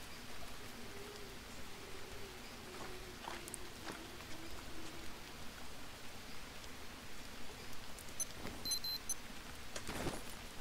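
Steady rain in the survival video game Green Hell, a continuous soft hiss with scattered droplet ticks and a faint low tone, holding evenly for the whole stretch without voices.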